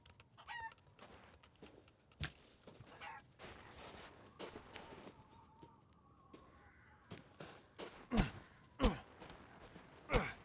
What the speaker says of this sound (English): Am I hearing chickens?